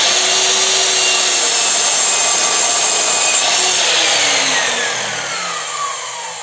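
A Metabo KGS 216 M miter saw cuts through maple in a single steady, loud pass. The blade gives a smooth, even whine that fades slightly as the cut finishes.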